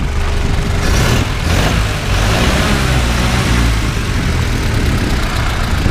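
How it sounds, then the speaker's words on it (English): 1929 Ford Model A Cabriolet engine running and being revved up nearby, a loud, rough, continuous mechanical clatter with a brief swell early on. "Go ahead and rev it up."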